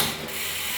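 A 12-speed Shimano drivetrain on an enduro hardtail mountain bike shifting, a short burst of clicking, ratcheting mechanical noise close up, loud and steady for under a second.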